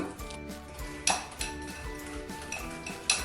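Cookie dough with a couple of drops of vanilla essence is stirred in a bowl: soft mixing sounds with sharp clinks of the utensil striking the bowl's side now and then, close and alone.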